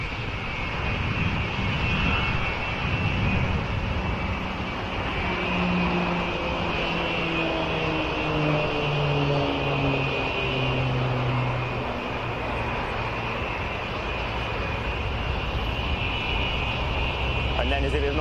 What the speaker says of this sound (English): Two Slovenian PC-9s overhead for their run and break.